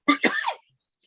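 Two quick, harsh bursts, a short cough followed by a longer rasping one, close up, then silence.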